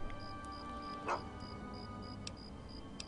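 Dogmeat, the dog in the video game Fallout 3, gives a single short bark or yip at close range, set against a low game hum and a repeating series of soft electronic beeps.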